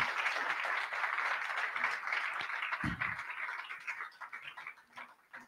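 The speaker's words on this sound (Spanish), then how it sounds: "el día de hoy recibimos con un fuerte aplauso" Attendees at a book club lecture on war welcome a speaker with applause, a steady, fairly faint patter of many hands that thins out and fades toward the end, with a brief low knock partway through.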